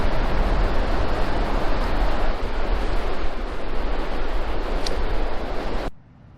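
Ocean surf rolls steadily onto Harris Beach on the Southern Oregon coast near a campground, a loud continuous wash of breaking waves with no voices, cutting off abruptly near the end.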